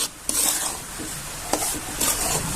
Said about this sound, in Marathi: इथं आपल्याला एक वाटी साखर घालून द्यायची छान असं हलवून द्यायचं